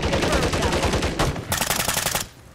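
Rapid automatic gunfire in Call of Duty MW3 Zombies, loud and continuous bursts with a brief change in tone partway before cutting off.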